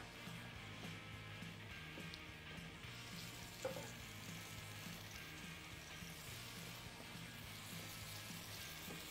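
Chicken pieces for chicken piccata fry in oil in a pan, giving a steady, even sizzle that holds throughout with no speech.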